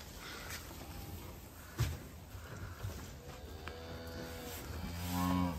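Cows on a farm at night, with quiet rustling and a few thumps of movement in the barn before a drawn-out moo rises, followed by a second louder, nearer low moo near the end.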